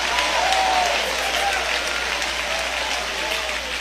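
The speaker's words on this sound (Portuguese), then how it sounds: "palmas misturadas com glória" Many worshippers clapping in a church, loudest at the start and then settling into a steady crowd patter, with a voice faintly audible above it.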